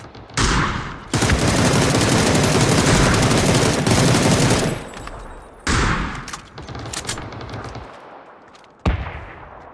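A rifle fitted with a 6x scope fires in PUBG on PC, a loud, sustained full-auto burst of several seconds, then shorter bursts separated by pauses and a final sharp volley.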